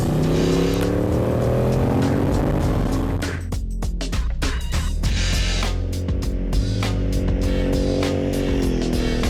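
A loud Aprilia Caponord Rallye motorcycle engine revs hard and continuously, pitch climbing and dropping with crackling bursts as the throttle is blipped, close and dominant.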